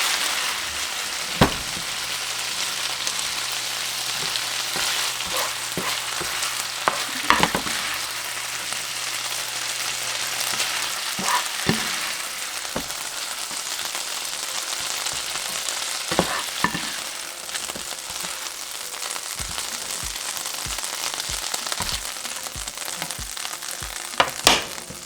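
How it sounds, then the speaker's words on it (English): Steak meat frying in its own juice in a pan, a continuous bright sizzle with occasional sharp pops and utensil knocks, steady and close with no speech. "So basically the meat is going to cook in its own juice."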